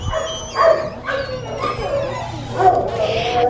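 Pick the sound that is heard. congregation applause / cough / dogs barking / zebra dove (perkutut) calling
dogs barking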